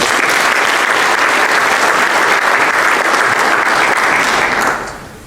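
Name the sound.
audience applause for senior award nominees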